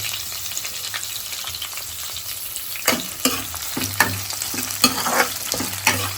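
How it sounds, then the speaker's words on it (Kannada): Chopped onions fry in a pan until browned for egg masala, giving a loud, steady sizzle near at hand; sharp clacks of stirring join in every second or so toward the end, with no voices. "ಸ್ವಲ್ಪ ಬ್ಲ್ಯಾಕ್ ಬರ್ಬೇಕು, ಅಲ್ಲೇವರೆಗೂ ಫ್ರೈ ಮಾಡ್ಕೋಬೇಕು."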